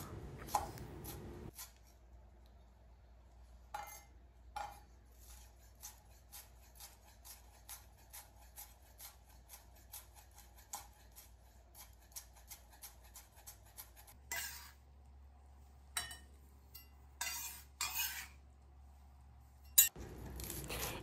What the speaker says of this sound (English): But I like to chop my vegetables.